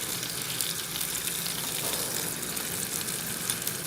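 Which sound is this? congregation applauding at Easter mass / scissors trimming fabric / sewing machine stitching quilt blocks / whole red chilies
whole red chilies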